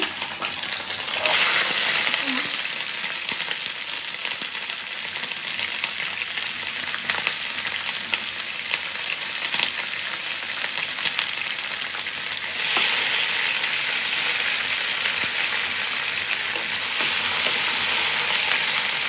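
Ingredients frying in hot mustard oil for a sour-sweet plum and green mango chutney, a steady loud sizzle that holds for the whole stretch, swelling brighter near the start and again in the last third, with no talk.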